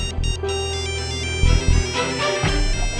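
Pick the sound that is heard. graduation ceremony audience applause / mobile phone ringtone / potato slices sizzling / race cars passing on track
mobile phone ringtone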